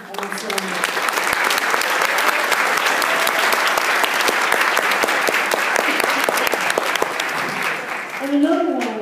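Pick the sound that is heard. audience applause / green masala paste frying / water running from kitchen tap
audience applause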